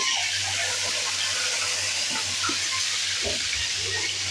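Potatoes and curry leaves fry in a pan, giving a loud, steady sizzling hiss that fills the whole stretch, with a low hum and faint clinks beneath it.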